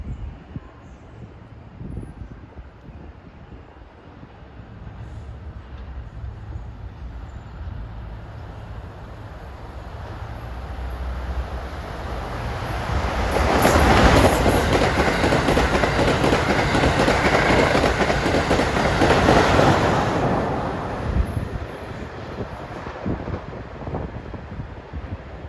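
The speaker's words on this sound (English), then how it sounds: "here comes 2169, Amtrak 2169, the Acela, Boston to Washington." An Amtrak Acela passenger train on the Boston to Washington run rushes past, building from a distant rumble to a loud, broad roar with faint clickety-clack and wind buffeting on the microphone, then easing off.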